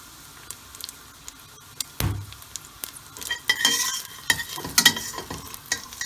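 Butter sizzles and pops in a pan with a little liquid while being stirred, for a chicken pesto pasta; after a quiet start, crackling bursts and stirring scrapes come close and fairly loud, with no talking.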